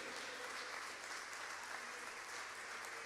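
A church congregation applauds during a Spanish-language service, dense continuous clapping from many hands filling the room at an even level, with no speech over it.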